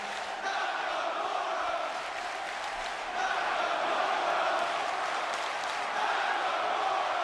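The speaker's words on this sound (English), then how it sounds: "They're chanting for him." Game crowd in WWE 2K17 wrestling arena, a steady dense roar with rhythmic chanting, loud and continuous throughout with no break in the noise.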